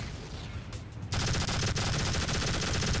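A twin chain gun fires in the video game Tribes: Vengeance, a sudden dense roar of rapid automatic gunfire that bursts in after a moment of quieter ambience and holds loud and continuous to the end.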